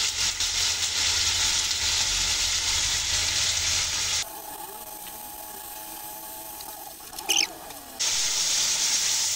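Ground spices fry in a pan with ginger, garlic, onion paste, salt, chili, cumin and coriander for beef mince biryani, giving a steady loud hiss that drops away midway and then returns, with a brief scrape.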